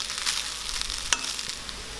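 Egg fried rice is stirred with pieces of fried egg in a hot pan, a brief soft scrape and sizzle with one sharper clink of the utensil partway through.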